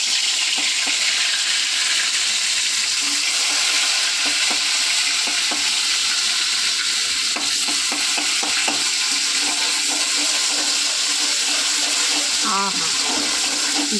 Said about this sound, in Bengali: তারপর পেস্ট করে রাখা রসুন বাটাটা দিয়ে দেবো।